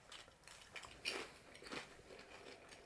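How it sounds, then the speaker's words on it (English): Crunchy chips being bitten and chewed close to a microphone: soft, quiet crackling crunches in a few uneven bursts. "I really hope these chips aren't too crunchy for the mic."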